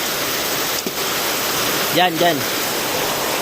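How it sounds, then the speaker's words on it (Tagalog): Strong wind and heavy rain outdoors, a dense constant hiss that fills the whole clip, with a voice speaking briefly over it. "Kita nyo naman, ang lakas ng hangin"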